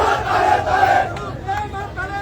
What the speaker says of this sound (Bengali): তার উপর সন্ত্রাসী হামলার প্রতিবাদে বিক্ষোভ মিছিল করছে আওয়ামী লীগের বিভিন্ন পর্যায়ের নেতৃবৃন্দ